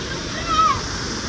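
Waterfall crashing down through dense forest, a steady, full rushing roar of falling water that stays close and continuous for the whole moment.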